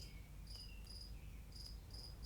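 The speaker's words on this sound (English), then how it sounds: "Can you hear those crickets chirping away?" Steady cricket chirping in short repeating bursts, high-pitched and fairly faint, with a low background rumble and no voices.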